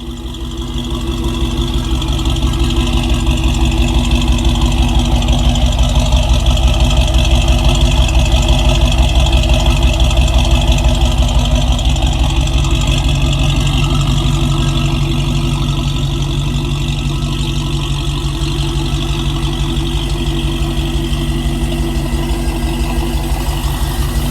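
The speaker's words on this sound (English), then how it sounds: "Idling, very, very nice." Ford 302 V8 engine idling close and loud with the hood off, a steady rumbling drone with a fast even pulse holding for the whole stretch, no talk over it.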